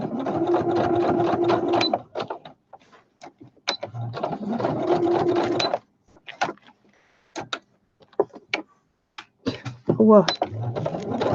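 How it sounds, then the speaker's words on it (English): A sewing machine sews a straight stitch in several loud bursts of fast mechanical chattering, each lasting a couple of seconds with short gaps, followed by scattered clicks and handling noises; a brief exclamation is heard near the end. "So I'm going to put a straight stitch."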